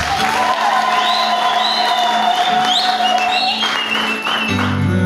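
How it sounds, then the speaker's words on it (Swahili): A church congregation applauds and cheers at a worship service, loud sustained clapping with whoops and shouts of praise that swell and fade over several seconds. "Pigie Bwana makofi."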